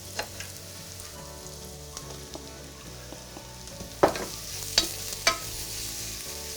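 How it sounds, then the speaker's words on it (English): Mushrooms half-cooking in a pot of lamb ramen base with ginger and garlic, a low steady sizzle broken by a few sharp scrapes and clacks of a utensil, near and quiet with no voices. "So I'm just sort of half cooking the mushrooms"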